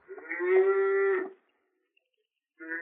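A herd of cattle out on open range: one cow gives a long, full, close moo, then a short silence, and a second moo begins at the very end. No talking.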